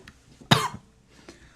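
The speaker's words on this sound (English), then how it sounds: "Nicotine makes me cough, even just a little bit." A single sharp cough, close and fairly loud, with a faint trailing breath and a soft throat sound after it.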